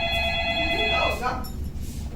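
An old-fashioned telephone rings with steady repeated bell tones in an indoor domestic scene, fading partway through as the line is picked up.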